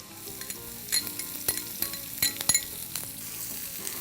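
Julienned ginger, garlic and chopped onion fry in a pan with a soft, low sizzle, broken by frequent bright clinks and scrapes of a spoon against the metal.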